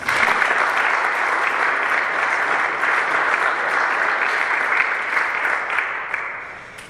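An audience applauds to welcome Dr. Michael Carlin as he comes up to speak, a loud, dense, steady clapping from many hands that fades slightly at the end.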